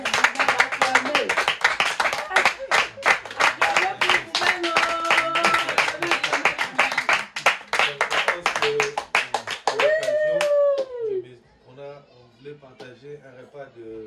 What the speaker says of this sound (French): Acclamez pour vous, acclamez.